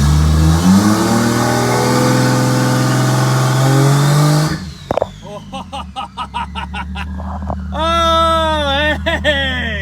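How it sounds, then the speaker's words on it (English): A Lexus IS300 on a trans brake with nitrous armed revs loudly with a strong rising engine tone for about four seconds, then cuts off abruptly, leaving an uneven idle with clicks and whines as people talk. "Trans brake. All right, so we're on the brake. The window up. Nitrous is armed. See what it does."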